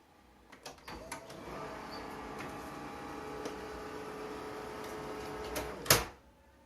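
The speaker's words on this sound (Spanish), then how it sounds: "Y voy a dar orden de copiado." A photocopier copies a sheet and is stopped before the page fully exits: a steady mechanical whir with scattered ticks and clicks, ending in a sharp clack before silence, with no talking.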